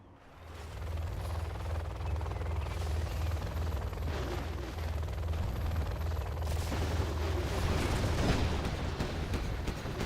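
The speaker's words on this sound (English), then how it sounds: "Here comes the artillery" Continuous heavy rumble of incoming artillery and battle noise in the strategy game Generals Zero Hour, a dense, loud din with low throbbing underneath that holds steady for the whole stretch.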